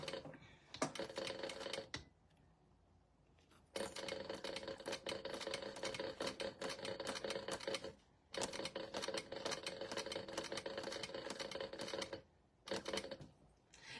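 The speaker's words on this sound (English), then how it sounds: "it's actually really easy to sew over this part, even so close to a zipper" A sewing machine stitches vinyl close to a zipper, running in long rapid mechanical bursts separated by brief pauses, near and steady.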